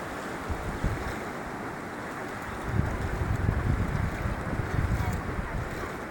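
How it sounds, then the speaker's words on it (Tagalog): Steady roar of ocean surf and churning, swirling water with gusty wind buffeting the microphone, swelling louder partway through as a wave rolls in. "Grabe yung alon, no? Umiikot siya."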